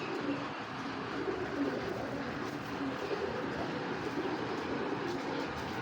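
A khaki male pigeon coos softly amid a steady, busy background rumble, the low calls repeating faintly through the noise.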